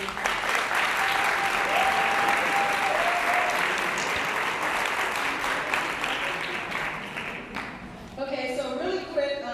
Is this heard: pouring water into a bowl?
no